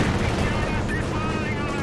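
Panzer IV tank firing in the Company of Heroes 2 video game amid a dense, continuous barrage of gunfire and blasts, loud and close, with a commentator talking underneath.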